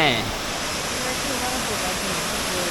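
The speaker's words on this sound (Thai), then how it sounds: "ตัวที่สองเป็นน้ำตกลานเสด็จแม่" Lan Sadet Mae waterfall at Kiu Mae Pan in rainy season gives a steady, loud, broadband rush of falling water; a voice is briefly heard at the very start.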